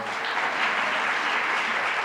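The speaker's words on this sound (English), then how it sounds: "Give him applause anyway" Audience applause at an awards ceremony, an unbroken, even roar of many people clapping at close range with no voices over it.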